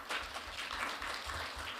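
Applause from a forum audience after a presentation, a steady broadband patter of clapping hands filling the room for a couple of seconds without any speech.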